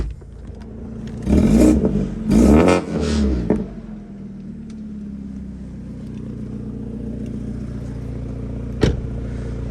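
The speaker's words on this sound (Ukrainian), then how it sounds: "в автомобілі встановлена дуже дорога вихлопна система, яка коштувала 4 тисячі доларів. Ось як це все звучить." A 2015 BMW 328 engine revs hard in a few sharp bursts through a loud aftermarket exhaust, then settles into a deep, steady idle rumble with a single click near the end.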